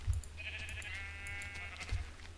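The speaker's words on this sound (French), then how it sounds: "Les moutons." Sheep bleats from the video game Minecraft, a couple of short electronic baa calls in a brief game clip, moderately loud over a low background hum with no talking.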